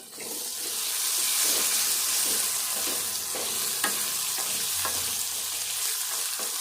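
Eggplant curry with ginger-garlic paste fries in a pan, a steady close sizzle broken by occasional stirring scrapes, with no talk.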